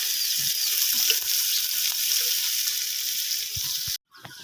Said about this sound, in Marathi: आता कांदा परतून घ्यायचा मस्तपैकी